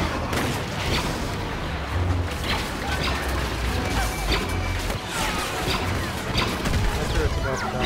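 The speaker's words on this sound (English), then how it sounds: "I got killed by an ion torpedo." Chaotic Star Wars Battlefront combat on the Sorosuub Centroplex supremacy map, with an ion torpedo slamming into a turret amid dense crashing impacts, booms and gunfire that stay loud and continuous throughout.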